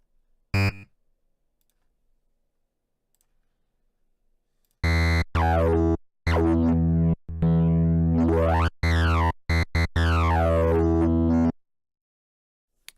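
A bright, buzzy TB-303-style acid synth tone, made in Phase Plant with its filter used as a wavetable, with sweeping resonant filter movement, playing a series of sustained notes after a brief click, loud and alone.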